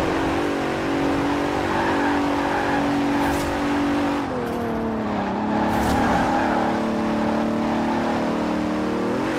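Bentley Continental engine in Forza Horizon 4: a steady, loud, close engine drone with clear harmonic tone that dips and shifts pitch around the middle as it changes revs, running unbroken with no talk.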